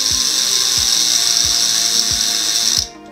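A toy slot car go-kart from a 1970s racing set buzzes with a steady high whine, plastic parts ticking out a regular clicking rhythm roughly every half second to imitate an engine, before cutting off abruptly near the end.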